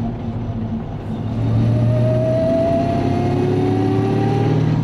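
A Land Rover Defender engine revs with a steady rumble while a rising induction whine climbs over several seconds. The sound is close, loud and continuous, with no talking.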